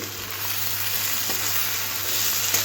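Chopped onion and tomato fry in oil in a pan for an egg bhujia, making a loud, continuous sizzle with faint stirring scrapes and no voices.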